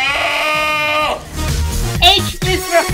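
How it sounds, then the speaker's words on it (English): A goat bleats in a long, loud, wavering cry, followed by shorter bleats and brief noisy scuffles, close to the listener. "G is for goat."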